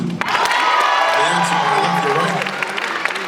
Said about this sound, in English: make some noise for Tuma Basa